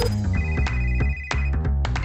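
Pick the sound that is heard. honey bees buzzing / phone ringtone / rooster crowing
phone ringtone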